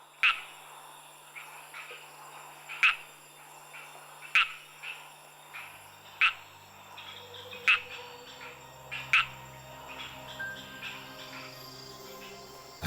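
Frogs giving mating calls in a Madagascar jungle at night, a repeating sharp call every second or so over a dense chorus of insects and other croaks.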